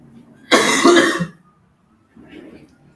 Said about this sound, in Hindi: थोड़ा सा हेल्थ इशू है इसीलिए खांसी वगैरह आ रहा है